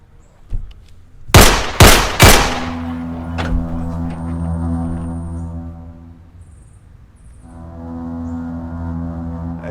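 In a Jamaican movie shootout, three loud gunshots crack in quick succession, then a dramatic musical drone carries on beneath the fading echoes.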